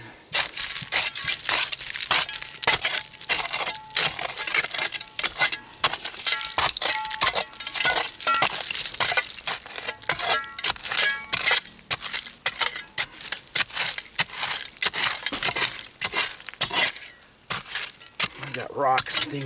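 Old hand-blown glass bottles, including a cough syrup bottle, clinking and scraping against rocks while being dug up, dense and continuous close-up rattling and chinking with a voice talking underneath.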